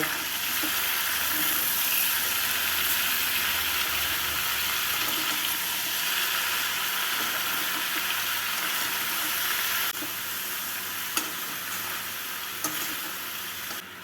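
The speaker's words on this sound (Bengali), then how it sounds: "মশলা দিয়ে সবজিগুলোকে নাড়াচাড়া করে নেব" Vegetables and spices sizzle and fry in a pan for a mixed vegetable curry, with a steady hiss throughout and occasional scrapes and clinks as they are stirred, heard up close with no talk.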